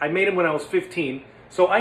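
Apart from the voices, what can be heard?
No everyday noise stands out behind the speech.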